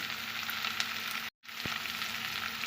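Prawns and eggplant fry with salt in a pan, a steady broadband sizzle that is loud and close, broken by a brief silent cut near the middle before the frying resumes.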